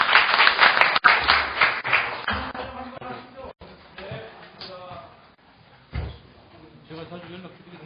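Audience at a political forum on coalition politics in Gyeonggi Province claps to close the event: a burst of loud clapping that quickly fades into scattered claps and shuffling, with people talking over it.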